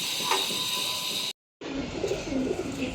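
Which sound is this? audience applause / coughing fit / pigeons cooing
pigeons cooing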